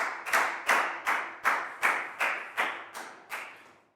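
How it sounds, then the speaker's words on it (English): A Year 4 class claps together in a steady rhythm for a classmate, about nine sharp, evenly spaced claps close by, with no talking. "High five and a big round of applause for Net, please, guys"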